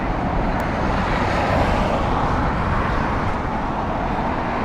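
An Aer Lingus airliner at Heathrow Airport gives off a steady, broad jet roar that holds level throughout, with no talking.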